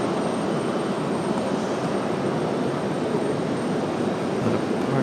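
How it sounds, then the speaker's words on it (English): Broad roaring rumble of an Airbus A350 jet airliner departing for Paris at RDU airport, heard as a steady, loud engine wash without talk. "Getting close to our A350 departure back to Paris."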